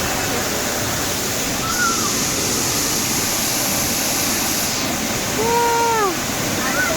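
The waterfall at Lata Medang roars as a steady, loud rush of falling water close by, with a voice briefly calling out over it near the end.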